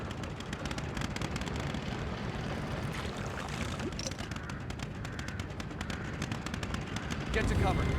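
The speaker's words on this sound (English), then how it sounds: "They're shooting from above." Enemies firing guns from above in The Evil Within, rapid bursts of gunfire crackling over a dense rumbling background, fairly loud and continuous.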